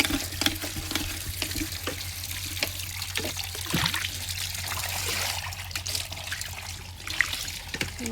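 Tap water runs steadily while black kitchen tiles are scrubbed and rinsed, a close, continuous trickle and splash with small clatters and no talking.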